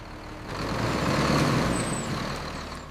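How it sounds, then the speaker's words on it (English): A garbage truck with air brakes rumbles nearby, its engine swelling to a steady loud drone and then easing off, with a faint high hiss near the end and no talk. "Goodbye, garbage truck."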